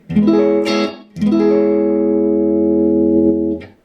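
Electric guitar through an MXR Timmy overdrive pedal at very low gain, two strummed chords ringing out long and warm with only a slight edge of grit.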